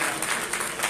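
Church congregation clapping during a Sunday service, a brief burst of steady, moderately loud applause from many hands.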